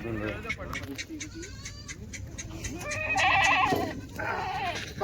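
Several goats bleat close by in a busy farmyard during goat sales, their calls overlapping with people talking in the background.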